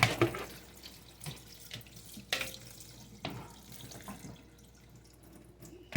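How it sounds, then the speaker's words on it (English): Tap water runs steadily into a kitchen sink over cooked noodles in a pot during holiday dinner preparation, a continuous close splashing with a few brief clatters of the pot. "I run water over top of my noodles."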